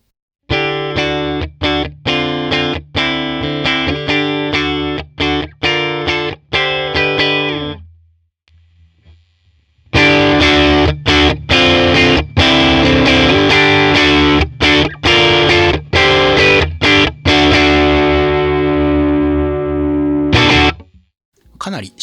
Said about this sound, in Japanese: かなりシンプルなオーバードライブで、結構原始的というか小さめのコンボアンプをオーバーロードしたみたいなちょっとファーズっぽい歪みです。